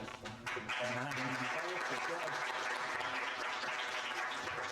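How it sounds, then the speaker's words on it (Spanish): At a university book presentation for "Por una Cancha Pareja" at UAM, an audience claps steadily and fairly densely, with a voice and some tonal sound mixed in near the start before the clapping settles into a continuous wash. "Se me olvidó un aplauso"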